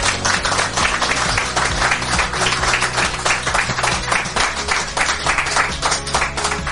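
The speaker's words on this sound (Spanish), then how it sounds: "lo mejor que podemos hacer, creo yo, es recibirlos con un aplauso" An audience applauds veteran sailors with loud, sustained clapping from many hands close by, a dense, lively patter that carries on steadily throughout.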